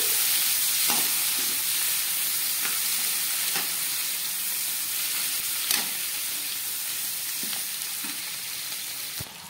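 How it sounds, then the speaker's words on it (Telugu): Tomato pieces frying in a pan with onions and green chilies for chicken egg fried rice, a steady close sizzle running throughout with a few sharp stirring clicks and scrapes, no voices. "వీటిని కూడా కాస్త మెత్తబడే వరకు ఫ్రై చేసుకోవాలి."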